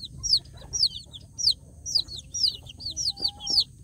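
Newly hatched free-range village chicks peep in a regular series of high, sharp chirps, close by, with faint low background noise beneath.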